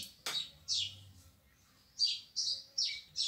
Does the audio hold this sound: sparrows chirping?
yes